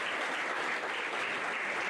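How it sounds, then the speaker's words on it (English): Steady, even applause from a seated audience at a high school spring sports banquet, a dense continuous patter of clapping heard at moderate distance with no voices standing out. "Nice round of applause for them."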